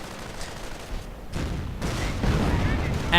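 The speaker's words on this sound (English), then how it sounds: "And artillery getting called in on the Panther, but apparently it survives." Artillery fire in a WWII strategy video game booms and crackles as shells come down around a Panther tank, a burst of rumbling blasts that grows louder toward the end.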